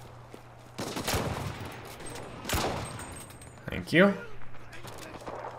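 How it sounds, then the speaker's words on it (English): Gunfire crackles through a battle in the WWII online shooter game Enlisted, with several short bursts of shots and clatter, some near and some distant, while a voice speaks briefly. "Who's shooting?"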